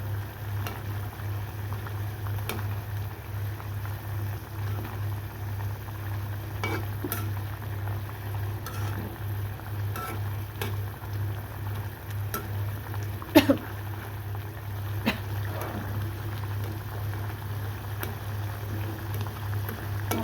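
Curry simmers in a covered pan, giving a steady, faint low bubbling hum with a soft background hiss and one brief clink partway through.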